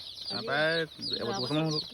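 Local free-range chickens on a small poultry farm in Golaghat, Assam, give two close, fairly loud bursts of tonal clucking calls, the second broken into shorter notes.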